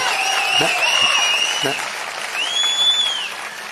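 Crowd at a Naam Tamilar Katchi political rally clapping and cheering steadily throughout, a dense wash of applause with shouts and a whistle rising above it.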